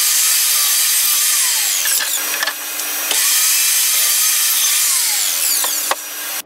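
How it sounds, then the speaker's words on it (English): A power saw cuts through wooden pieces for the sides of a tote stool, a loud, close, steady whine with short dips and changes in pitch as the blade moves through the wood, and a sharp knock near the end. "I'm going to need two pieces at 18 inch, so let's cut them"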